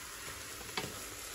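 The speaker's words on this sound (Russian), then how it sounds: "Немножко вот так обжариваю." Red lentils, rice and bulgur frying in a pan for a Turkish soup give a steady, quiet sizzle with one brief scrape of stirring, with no talking.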